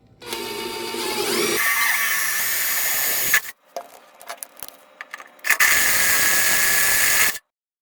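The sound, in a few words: power drill boring 5/16 pilot hole into truck chassis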